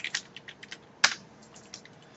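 Quick bursts of close computer keyboard typing, a run of crisp rapid keystrokes, then one loud clack like a spacebar or enter key and a few lighter taps trailing off.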